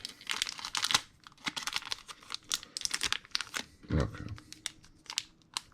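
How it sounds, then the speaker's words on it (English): Packs of 1991 Fleer Ultra football cards being cut open at close range: bursts of crinkling, tearing wrapper sounds with brief pauses, and a short spoken word partway through. "I gotta get better cutting open cards like this. But it does seem to go quicker"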